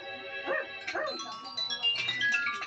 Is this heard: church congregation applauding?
no